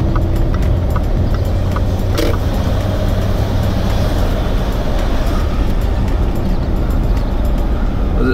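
A Range Rover TDV8 drives on an open road with its windows down, giving a steady, loud rumble of engine and road noise that runs unbroken from start to finish.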